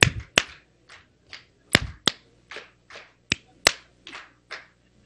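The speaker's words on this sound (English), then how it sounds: "I clap twice, then you clap twice." Sharp, separate claps in a call-and-response exercise with an audience at an online education summit, about a dozen crisp smacks arriving singly and in loose pairs, some loud and close, others softer, with quiet gaps between them.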